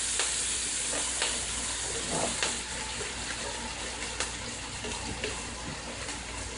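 Curried chicken ingredients sizzle and crackle as they go into a hot Dutch pot, a steady close frying hiss with scattered pops and clicks and no talking.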